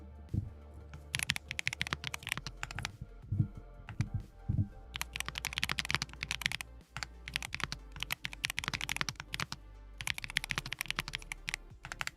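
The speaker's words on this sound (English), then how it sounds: "Can you hear the clickety clacks? Actually, this keyboard's a lot quieter than mine." Keyboard typing clatters in dense bursts of quick, crisp clicks held close to a microphone, with short pauses between runs of keystrokes and no talking.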